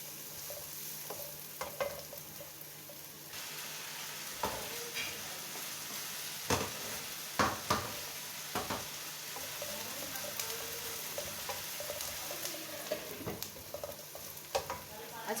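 Onions sautéing in a pan while macaroni is being prepared, a moderate sizzle broken by repeated scraping and clinking stirs of a spatula against the pan, close and uneven in rhythm.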